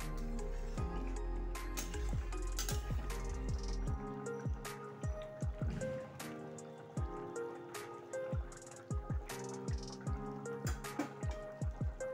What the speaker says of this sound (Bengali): তরকারিটা ফুটতে শুরু করে দিয়েছে